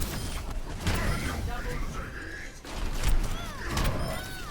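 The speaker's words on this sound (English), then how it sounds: "The fire strike sounds heavier too" Fire strike ability in Overwatch 2 plays as heavy whooshing, thumping game effects with mechanical clanks amid other in-game noise, loud and close, while someone talks over it.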